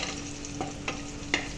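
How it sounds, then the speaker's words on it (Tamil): Green chillies sauté in hot oil with a soft, continuous sizzle, broken by three distinct scraping stirs of a spoon in the pan, heard up close without talk. "க்ரீன் சில்லி போட்டாச்சு. நல்லா இப்படி வதக்கணும்."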